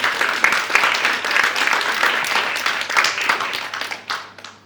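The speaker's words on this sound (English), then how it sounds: "Can we have a round of applause for him?" A room full of people at a community domestic violence forum applauds steadily for several seconds, the clapping tapering off at the end.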